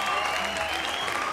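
Studio audience applause on a Tamil comedy show, a dense, steady wash of clapping that holds for the whole moment without pause.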